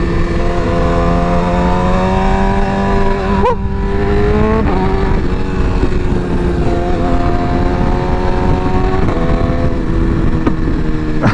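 A motorcycle engine on a New York City MSF rider training course hums steadily and loudly throughout, its pitch shifting as the rider accelerates and leans through the ride, with no talk over it.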